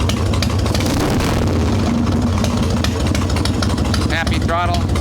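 An Evo Softail motorcycle engine runs after carburettor tuning, with a loud, close, steady rumble and throttle blips, while someone talks over it.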